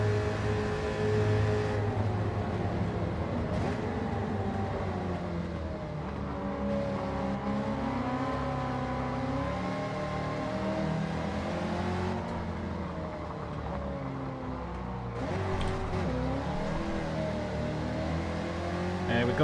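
A modified big-engined race car in Gran Turismo 7 drones steadily, its engine note rising and falling through gear changes across a continuous, moderately loud run.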